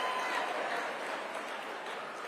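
Crowd at a Turning Point USA event jeering a speaker, a dense, sustained wash of massed voices and noise holding steady throughout at a moderate level.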